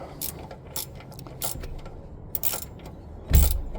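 A ratchet works loose a tightly fastened bolt on a Jeep, giving a few quick clicking strokes at close range with a louder clunk near the end.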